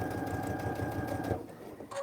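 A sewing machine with an adjustable zipper foot stitches fabric in a steady, fast, even hum and whir, close and fairly quiet, stopping briefly near the end.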